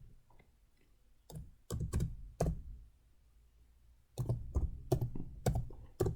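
Keys tapped on a computer keyboard while entering a number, a few separate clicks followed after a pause by a faster cluster of close, fairly loud keystrokes in an otherwise quiet room.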